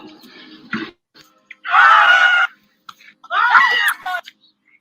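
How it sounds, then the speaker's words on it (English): People scream in loud bursts during the opening of a Steel City reality competition finale, with two long sustained yells separated by short gaps and some scattered shorter cries. "A lot of screaming."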